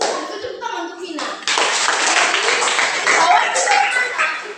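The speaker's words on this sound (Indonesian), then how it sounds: "tepuk tangan untuk Vina" Children in an Indonesian classroom clap together in a loud burst of dense, rapid hand claps that starts after a brief pause and continues steadily, with a teacher's voice heard briefly at the start.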